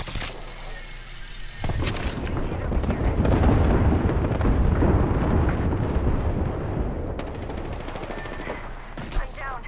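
Rapid airstrike explosions in Apex Legends, a dense barrage of booming blasts and crackling impacts rolling on for several seconds, loud and close.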